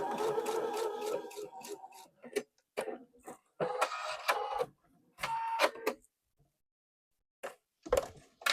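A sewing machine stitches a Strawberry Blossom quilt block in short close bursts of whirring, broken by pauses and a few faint handling clicks.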